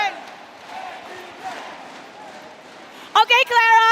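A large crowd at the M5 esports world championship grand finals, a distant roar of massed voices that suddenly jumps to loud, close shouting near the end.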